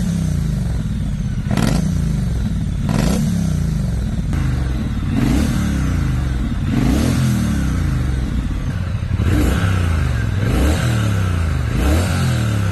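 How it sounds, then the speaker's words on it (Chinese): A Brixton Cromwell 1200 motorcycle engine runs close by with a throbbing exhaust note, rising and falling through repeated revs over a steady idle. "接下来来听一下经典版和穿越版发动机运行声音和排气管声音的对比"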